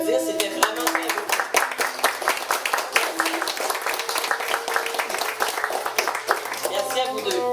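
Wedding guests applaud together in a steady, dense round of clapping that fills the scene from start to finish, with no voices rising above it.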